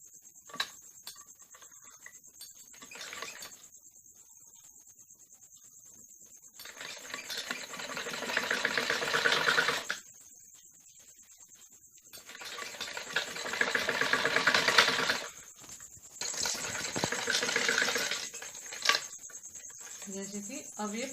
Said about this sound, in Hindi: ऐसे मोड़ के इसके ऊपर सिलाई लगानी होती है